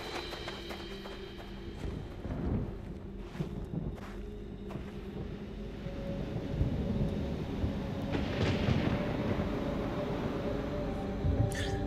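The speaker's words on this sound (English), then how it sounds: "I love me a good storm." A storm at sea in Resident Evil Revelations: a steady wash of rain and wind under deep, rolling thunder rumbles. It swells gradually louder toward the end, with no voices.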